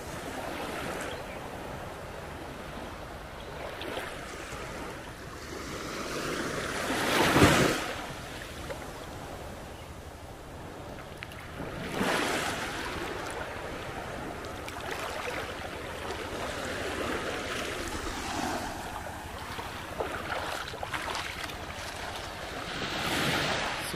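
Ocean waves washing onto Wandoor Beach, a continuous roar of surf with a few louder breaking swells and wind buffeting the microphone.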